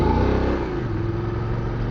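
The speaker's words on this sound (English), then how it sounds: "I really like the sound of this engine, man." Engine of a Voge DS900X adventure motorcycle revving, a steady loud mechanical drone held close to the microphone for a couple of seconds with no talk.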